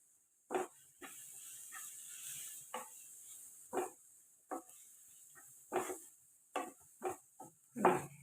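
A spatula scrapes and knocks against a pan while goat brain fry with pepper and curry masala powder is stirred, giving soft, irregular strokes at close range under a faint background hiss.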